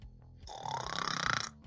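A voice imitates snoring during a Spanish bedtime story for children, with one long rasping, throaty snore that swells and holds for about a second, set against soft background music.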